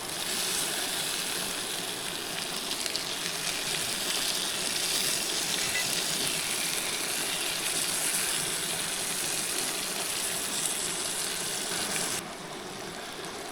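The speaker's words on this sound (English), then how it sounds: "it's still sizzling away" Continuous hissing sizzle of food frying in a cast-iron skillet at a campsite, steady and fairly loud, dropping off abruptly near the end.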